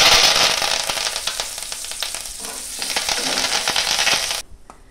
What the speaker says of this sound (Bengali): আর দেব 1 চামচ সর্ষে। ফোড়নে দিয়ে দেব কারি পাতা।